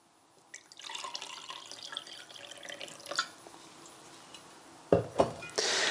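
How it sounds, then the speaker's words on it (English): Distilled water being poured into a glass gives soft trickling and light splashing, quiet and close, followed near the end by a few sharp clinks and a brief louder rush of liquid. "I'm going to put some distilled water into a glass."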